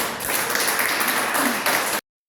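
A church congregation at a Sunday family service breaks into brief applause, a dense wash of clapping that fills about two seconds before cutting off abruptly.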